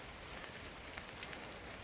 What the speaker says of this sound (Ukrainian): От і дощик до нас прийшов.